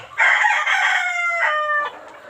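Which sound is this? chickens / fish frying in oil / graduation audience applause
chickens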